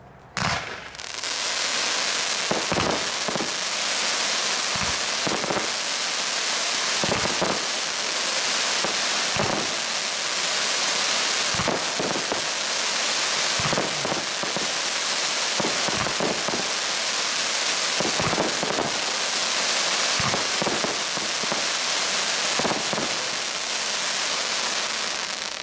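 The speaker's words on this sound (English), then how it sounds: "The next cake is a V-shaped cake. That means it's got a stream left and a stream right. 80-shot. Time rain crocettes or crackling crocettes." Repeated bursts from an 80-shot V-shaped firework cake firing time rain crossettes, sharp cracks and pops arriving in quick irregular clusters over a continuous hissing, crackling wash, loud and sustained throughout with no talk.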